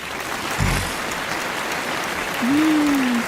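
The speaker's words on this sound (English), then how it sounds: "let's get a big ass round of applause" Steady wash of applause filling the space, with a low thump early on and a faint tonal whistle near the end.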